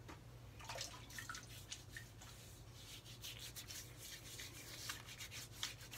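Wet rubbing and scrubbing of shaving soap lather worked over a face with a brush, a soft continuous swishing with faint drips, close and quiet with no talking.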